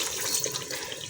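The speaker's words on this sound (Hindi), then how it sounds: "अब मैं इसमें बिल्कुल थोड़ा सा पानी डालूंगी" A little water poured into a pan of frying chicken, giving a brief, steady hiss and splash at close range with no voices over it.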